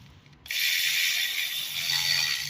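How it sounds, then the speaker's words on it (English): A ratchet tightens valve cover bolts on a Toyota Corolla, a steady loud whirring click run that starts abruptly and continues evenly for about two seconds, close up with no voices. "and then you can use your ratchet or whatever you got. Tighten them in"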